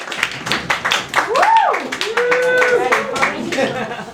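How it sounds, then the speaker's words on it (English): Audience applause at an open mic night, a close burst of rapid clapping with voices and cheering mixed in, loudest in the first half and then thinning out. "Samantha Alethea, let's have a big round of applause."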